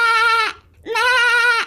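A goat gives two loud, clear bleats close by, each about half a second long with a brief silent gap between them, no talk.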